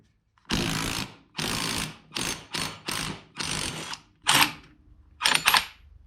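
An impact wrench hammers at the strut nut of a Mercedes W124 front strut in loud, close bursts. About eight bursts of rattling, each lasting roughly half a second, are separated by brief gaps.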